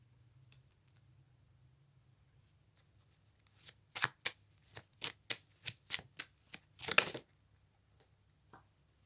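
Tarot cards are shuffled close up in a quiet room, a quick run of about ten crisp riffling bursts that ends in one longer flutter, with faint isolated taps before and after.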